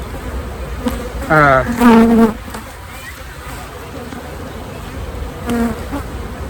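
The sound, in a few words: honeybees buzzing during a beehive inspection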